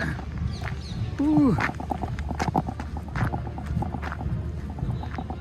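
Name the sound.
horses' hooves clip-clopping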